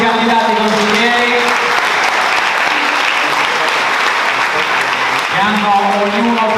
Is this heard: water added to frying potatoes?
no